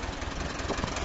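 An old farm tractor engine idles, a low rhythmic chugging throb heard up close for about a second, steady and unbroken with no voices.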